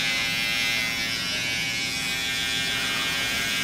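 Hair clippers buzz steadily and close up while cutting an outline into a haircut design, a continuous electric hum with no breaks and no voices.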